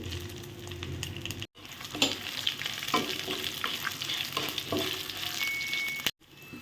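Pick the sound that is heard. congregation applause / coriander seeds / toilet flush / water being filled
coriander seeds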